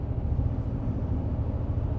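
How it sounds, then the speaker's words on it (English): Low, steady engine burble from a 2025 Toyota Tundra Limited hybrid truck as the engine cuts in, heard as a constant muffled rumble inside a quiet cabin with no talking. "And the only thing you can hear is the burble of that engine when it cuts in."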